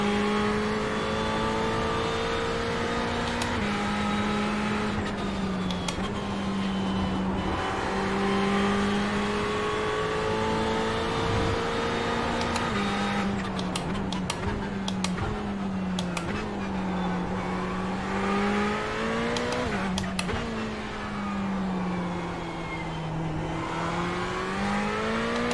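Ferrari 488 GT3 race car in the iRacing video game, a loud steady engine drone rising and falling with throttle and gear changes through a lap, with brief rattling bursts midway.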